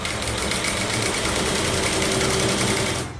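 A sewing machine runs steadily, stitching fluorescent green and black kilt fabric: a loud, even, rapid mechanical whir with a fast rhythmic needle patter that continues without pause, then stops abruptly at the end.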